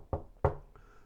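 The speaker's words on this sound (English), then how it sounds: "A little while later, there was a knock at the door." Two sharp knocks on a door, close and distinct, the second a little louder, followed by a faint trailing rattle, with no voices.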